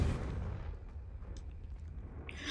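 A single Confringo blasting spell explosion in Hogwarts Legacy, a loud boom at the start that fades into a low rumbling tail.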